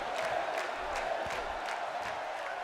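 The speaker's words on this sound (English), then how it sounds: "you can hear this crowd getting behind her" An arena crowd cheers in the wrestling video game WWE 2K17, with a steady, distant-sounding roar of voices and scattered whoops throughout.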